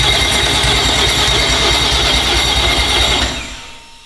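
An Audi RS4 engine, out of the car on its first start, cranks with a loud, steady churn and rumble for about three seconds, then winds down and fades out.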